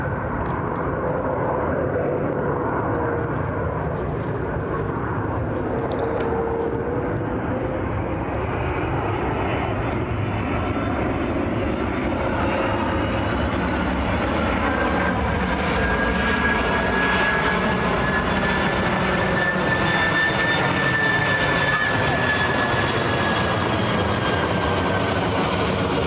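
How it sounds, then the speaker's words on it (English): A cargo plane passes low over a residential neighborhood, its broad engine roar loud and continuous for the whole stretch, with a slowly rising whine as the aircraft approaches and goes overhead. "I'll leave you with the sound of a cargo plane in our neighborhood"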